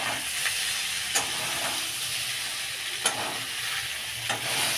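Masala paste of tomato, ginger, onion and garlic with cumin powder sizzles steadily in a pan, loud and close, with a spatula scraping through it at intervals of about two seconds.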